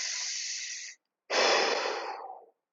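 Deep breaths during a spine and shoulder mobility exercise class: a long, steady airy inhale, a brief pause, then a strong breathy exhale that trails off, close and clear.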